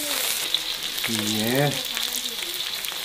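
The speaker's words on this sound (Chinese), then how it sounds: "放油炸" Insect larvae sizzle and crackle in hot oil with steady, close frying noise, as a voice briefly speaks over it.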